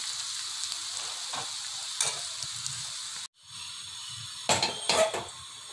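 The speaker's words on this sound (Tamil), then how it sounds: "கருவேப்பிலை, இது கூட பெருங்காயம். போதும், வதங்கிடுச்சு." Curry leaves and asafoetida sizzle in hot tempering oil for milagu pongal, a steady close crackling hiss with brief louder spatters and stirring clinks, broken by a short pause partway through.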